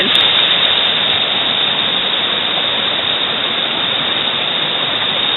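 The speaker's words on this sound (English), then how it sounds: "and now it's a deep torrent" Silver Creek in spring flood on the Superior Hiking Trail, rushing as a deep torrent, with a loud, steady, broadband roar of fast water that stays constant throughout and has no talk.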